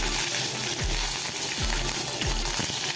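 Mustard seeds, cumin and curry leaves crackle and sizzle in hot oil for Indori poha, a dense steady frying hiss with a few low thumps from the pan recurring about every three quarters of a second.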